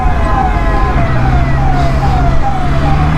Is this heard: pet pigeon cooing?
no